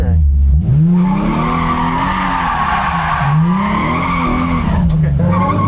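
Car drifting at an all-ladies drift day, tires skidding and squealing in long sustained wails with engine roar underneath, loud and close, with voices over it.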